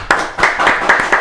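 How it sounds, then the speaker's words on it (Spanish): Audience applause greeting a guest on a talk show set, a short loud burst of group clapping with rhythmic surges, no voices over it. "vamos a recibir con un fortísimo aplauso"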